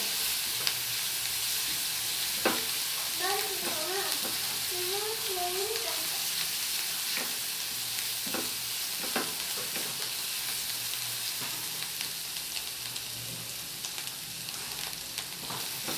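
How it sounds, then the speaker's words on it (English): Onion frying in a pan for an Indian eggplant and tomato dish, a steady close sizzle with occasional stirring scrapes and soft clicks running throughout. "And now let it cook the onion"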